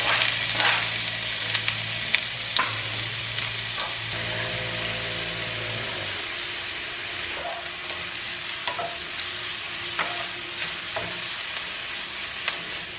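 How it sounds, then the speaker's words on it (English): Onions and garlic sizzle steadily in a pan, a dense continuous frying hiss with occasional stirring clinks and scrapes, close and unbroken throughout. "the first ingredients I'm gonna add to the pan are the onions and the garlic"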